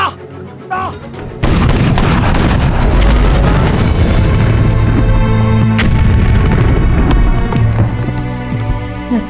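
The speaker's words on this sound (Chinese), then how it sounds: "那从天而降的炮弹所发出的巨响" Artillery shells exploding in a war film, with a deep, heavy boom bursting in after a quieter opening and sustained rumbling blasts and gunfire-like crackle filling the rest, loud and dense throughout.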